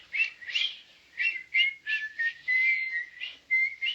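A person whistles Jingle Bells nearby in short, breathy notes, with brief gaps between phrases and no other sound underneath.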